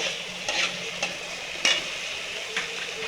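Chicken fried rice is stirred and fried in a pan, a steady sizzle with several scraping stirs of a utensil against the pan at irregular moments, close and fairly soft, with no talking.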